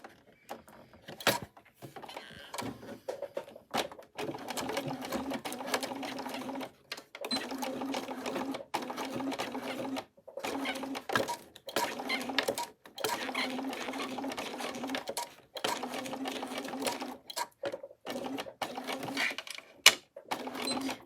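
A sewing machine stitches curves on a unicorn-shaped bag in many short start-stop bursts, the foot lifted by hand between runs, giving a choppy, close mechanical buzz with brief pauses over about twenty seconds.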